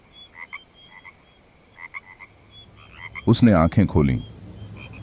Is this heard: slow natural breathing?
no